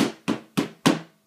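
Four evenly spaced taps of a plastic hammer drive a knurled pin into a Mk22 SCAR rifle part, each strike a short, fairly loud knock that quickly decays.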